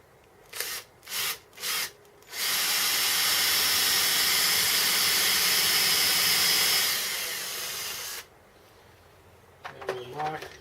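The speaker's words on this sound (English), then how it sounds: "And this drill is ready to roll." A 1.5 mm drill bores into a plate on a home-built Gingery milling machine's universal compound slide, a steady loud whirring hiss lasting about six seconds after a few short bursts, with brief talk at the end.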